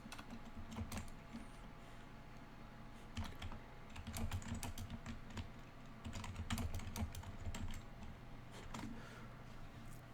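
Continuous typing on a computer keyboard to write a text comment, with dense, irregular clicking keystrokes close to the microphone and no speech.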